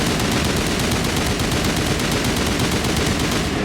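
Rapid automatic gunfire from a weapon in the video game Mass Effect 1, a loud, continuous burst of evenly spaced shots that runs almost unbroken and cuts off just at the end.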